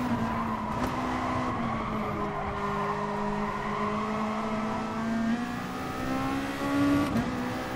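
A Gran Turismo Sport GR.2 race car at Autopolis revs hard with too much throttle, its engine note rising and falling continuously alongside tire squeal, loud and close with no talk.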